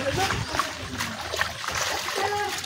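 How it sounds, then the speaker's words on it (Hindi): Water splashes and sloshes as a vehicle crosses a waterlogged road where rainwater pools, giving repeated close splatters and trickles, with someone talking over the top. "यहाँ पे रोड ख़राब नहीं है लेकिन पानी जमता है, पूरा जाने के लिए ऐसे ही क्रॉस करना पड़ेगा"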